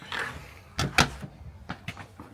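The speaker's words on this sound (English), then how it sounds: "My son went inside and didn't close the door, so I'm gonna do that real quick." A door is pushed shut at a house, beside the garage, giving a couple of close knocks and a firm thud followed by a few fainter clicks and taps.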